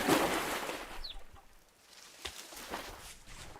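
Chickens clucking in the Rust survival video game, heard as a few soft clucks behind a burst of broad noise at the start, fairly faint and without speech.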